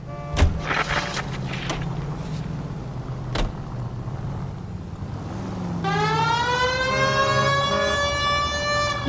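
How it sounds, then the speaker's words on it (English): Police car siren in the video game L.A. Noire, starting after a few seconds of car engine and road noise, then wailing loudly and steadily in rising and falling harmonic sweeps. "You got something against sirens, Phelps?"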